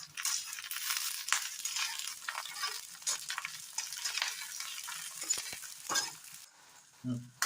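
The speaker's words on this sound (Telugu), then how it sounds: "ఒక 2 పచ్చిమిర్చిని చించుకొని వేసుకొని వేయించుకోవాలి" Onions and green chilies fry in a pan, a close hissing sizzle broken by frequent stirring scrapes and clatters, quieter toward the end with a brief knock.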